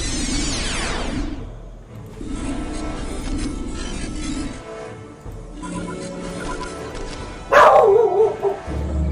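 Dog barking in a Warhammer 40K Dawn of War: Dark Crusade game scene, a sharp yelping burst near the start and another loud bark toward the end over a murmuring game background.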